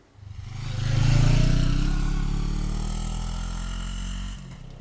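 Honda Africa Twin motorcycle engine running close by during a rebuild, a loud low rumble that swells quickly, holds steady and eases slightly before cutting off near the end.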